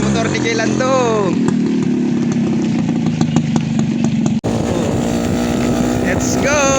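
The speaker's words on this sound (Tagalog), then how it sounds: "Umandar din ng motor ni Kilando." A small boat's motor starts up on a flooded waterway and settles into a loud, steady running drone with revving pitch changes, close by, under occasional talk.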